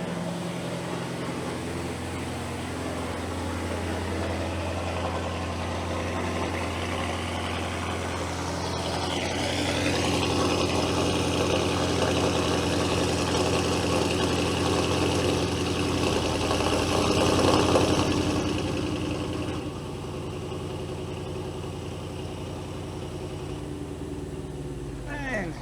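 Audi TT with a 4.0 engine idles steadily with a low, even hum and a constant low-frequency rumble throughout, swelling slightly in the middle as someone speaks nearby.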